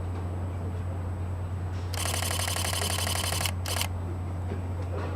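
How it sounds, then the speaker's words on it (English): A Sony Alpha 77 camera shutter fires in a rapid burst at 12 frames per second for about a second and a half, then a short second burst, held close to the microphone over a steady low hum. "Here's the Alpha 77. I think you can just listen to this on 12 frames a second."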